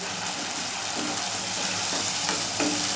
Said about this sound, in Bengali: সমস্ত মশলাগুলোকে আমি আলুর সাথে ভালো করে কষিয়ে নেব।